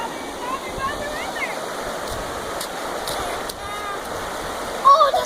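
A creek near a house flows with a steady broadband rush of water throughout, with a short, louder burst near the end.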